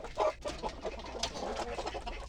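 A large rooster on a farm makes a few short clucking calls, moderately close but fairly quiet, with no one speaking.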